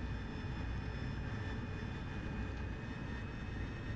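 AV-8B Harrier jet engine in the DCS flight simulator roars at a steady, dense high level with a constant turbine whine, no voices over it.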